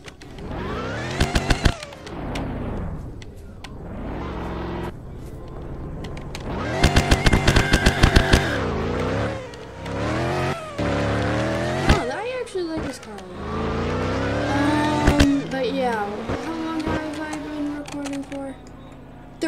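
Cars race in a PC video game, engines revving up and down in repeated rising sweeps with sharp shifts and bursts, loud and close, while a person talks quietly in between.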